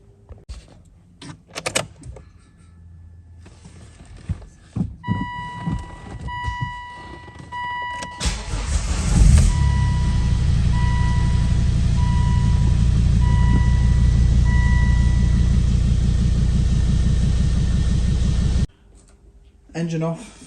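A Volvo 2.4 D5 five-cylinder diesel starts after a few clicks and handling noises, then idles steadily and loudly with a constant low drone before cutting off near the end; a voice speaks briefly early on.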